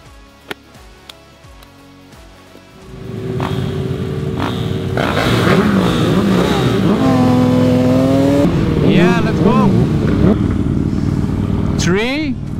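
KTM 790 Duke and Kawasaki Ninja ZX-6R motorcycles rev hard at a moto drift battle, engines climbing and falling in loud sustained runs over crowd noise after a few sharp clicks, with a quick rising rev near the end.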